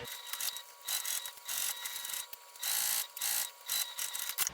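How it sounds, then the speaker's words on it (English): A sewing machine top stitches an eighth-inch seam around the edge of a bag, running in short, close mechanical bursts of rapid whirring clatter separated by brief pauses. "I'm just going to do 1/8 of an inch top stitching all the way around."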